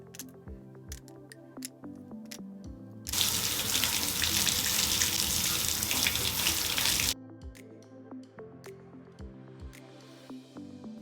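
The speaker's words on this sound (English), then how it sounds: "I put it into a sieve and then rinsed it under the shower to make sure that everything was nice and clean" Garage kit resin parts rinsed in a sieve under a shower, a loud, steady spray of water hitting the parts and mesh for about four seconds, framed by quiet background music before and after.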